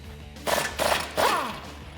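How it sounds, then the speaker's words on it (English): Air impact gun with a 30 socket hammering on a bolt during a front leveling kit install on a 2004-2013 Ford F150, three short rattling bursts close by with hissing air between them. "I've got my 27 short socket on my 1/2" ratchet, and my 30 socket on my air gun"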